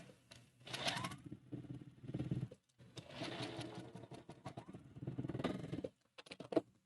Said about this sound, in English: I am chain stitching this